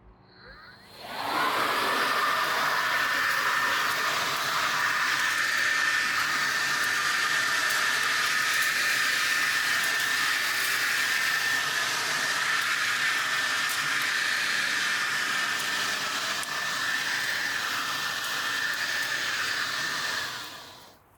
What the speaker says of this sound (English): I think the blower works pretty well